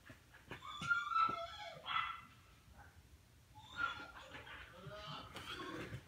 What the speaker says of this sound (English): This is my dog with Greasy in the background